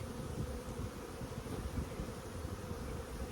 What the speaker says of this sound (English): look at that, 6 frames of bees